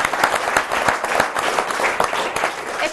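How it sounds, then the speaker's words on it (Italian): An audience at an archery and target shooting event gives its guests a round of applause, with dense, steady clapping from a crowd that is fairly loud and close. "un applauso anche ai nostri due ospiti"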